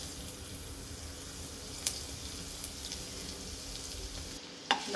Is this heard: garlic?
yes